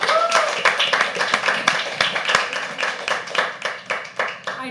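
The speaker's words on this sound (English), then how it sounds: "So can we have a huge round of applause?" Audience clapping at a live poetry open mic, individual claps audible as distinct sharp hits in an uneven rhythm, with a voice talking over the applause partway through.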